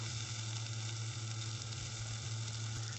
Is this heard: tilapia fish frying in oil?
yes